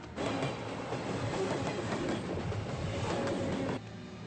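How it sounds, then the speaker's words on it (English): A train rumbles past steadily with rattling wagons and faint clickety-clack, a dense continuous roar that cuts off near the end. "Jeff, there's a train."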